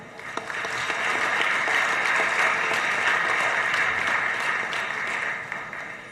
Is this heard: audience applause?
yes